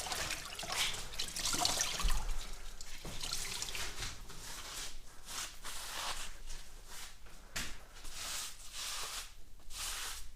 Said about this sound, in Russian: Полагаю, не лишним будет убрать пыль просто с помощью мокрой тряпки.